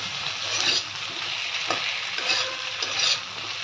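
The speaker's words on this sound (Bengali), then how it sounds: "পেঁয়াজের সঙ্গে আলুটাও লালচে করে ভাজা হবে।" Onion and potato pieces frying together in a pan, a steady soft sizzle with occasional stirring scrapes, close and alone without talk.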